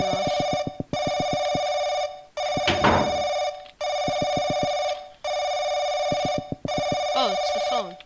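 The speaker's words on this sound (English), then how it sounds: "Oh, it's the phone." A telephone in the horror video game Paranoiac rings loudly and close in repeated long electronic bursts separated by short gaps, five rings in steady rhythm, with a brief extra rattle in one pause and no talking.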